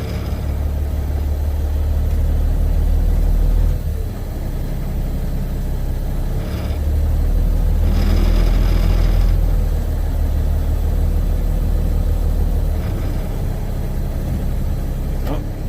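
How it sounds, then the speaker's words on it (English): A Peterbilt 579 truck engine rumbles steadily at low revs while pulling a flatbed trailer forward a short distance with its trailer brakes set, loud and close, swelling slightly partway through. "So now we're just going to drag it forward a little bit."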